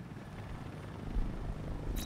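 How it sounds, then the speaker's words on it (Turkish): Drones hover in the Batman: Arkham Knight video game as a steady whirring, buzzing drone with a low rumble. A brief higher electronic chirp comes in near the end. "Şunlar drone değil mi?"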